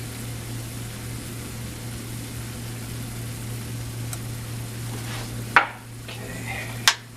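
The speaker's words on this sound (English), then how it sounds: "And now we're going to put the butter in." Butter melts in a pan for chicken piccata with artichokes, giving a soft, steady sizzle over a low hum. Two sharp clinks from a utensil or the pan come near the end.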